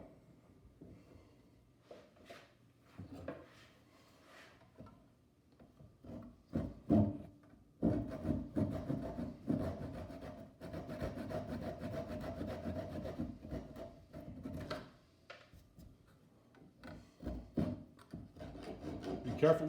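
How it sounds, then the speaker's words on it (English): Glued wooden dowels are cut off flush on a gun stock, heard as scattered light scrapes at first and then a sustained rasping saw stroke in the middle, with quieter sawing bursts afterward in a quiet room. "The glue is dried and the dowels are ready to be cut off."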